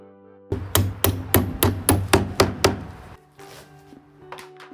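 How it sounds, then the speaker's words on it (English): A hammer knocks glued, nailed wooden supports off a broken vanity's drawer front: a rapid run of eight sharp, loud wooden strikes, then a pause and a few softer taps. "a little bit of glue and persuasion with the hammer and we'll get these off"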